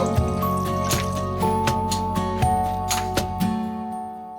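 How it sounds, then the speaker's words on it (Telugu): Water is poured into country chicken curry in a pan, a close splashing and gurgling stream with uneven spattering bursts over several seconds that tapers off at the end. "నేను ఒక 2 గ్లాసులు నీళ్లు వేసుకుంటున్నాను."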